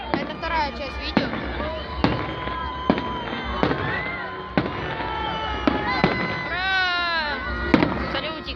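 Victory Day fireworks salute bursting in a steady series of sharp cracks and booms, fairly loud, with excited voices and shouts over the bangs, including a child's high cries.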